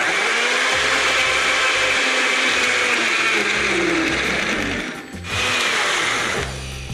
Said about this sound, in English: this is a blender. Every kitchen has a blender.